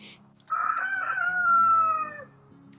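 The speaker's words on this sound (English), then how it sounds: "Roosters love to crow." A rooster crows once, a long drawn-out call lasting nearly two seconds, loud and close, with quieter low clucking from other fowl underneath.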